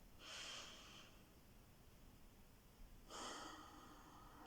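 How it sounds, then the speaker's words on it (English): Two slow, deep nasal inhalations into the belly, soft and close, each about a second long and separated by a quiet pause, during a calm breathing meditation with no talking. "we're going to breathe into the belly again, but then up into the heart center"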